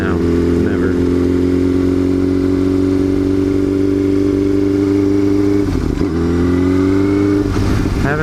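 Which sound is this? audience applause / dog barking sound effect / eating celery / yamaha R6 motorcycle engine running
yamaha R6 motorcycle engine running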